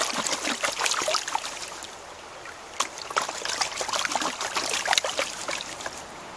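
Water is poured off a gold pan full of black sand, giving a close, uneven trickling and splashing with repeated small surges and brief quieter gaps, and no talk over it.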